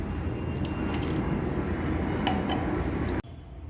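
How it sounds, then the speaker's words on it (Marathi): Basmati rice being washed in a bowl, a dense continuous swishing and grainy rattling of water and rice, close and fairly loud, ending abruptly with a brief clink near the end. "प्रथम आपण तांदूळ धुवून घेऊया."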